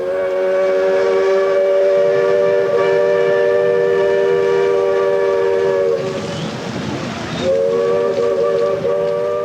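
A train in Ecuador rumbles along steadily with its horn sounding in long, layered chords that break off briefly and then resume, loud and close.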